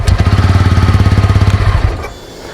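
A TVS Ronin motorcycle engine cranks and catches, its loud, fast, steady thumping pulse running close by for about two seconds before it cuts off abruptly into quiet.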